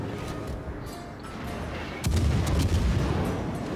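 Battleship main guns firing armour-piercing shells in the naval game World of Warships, with a heavy boom partway through over a continuous rumbling battle background.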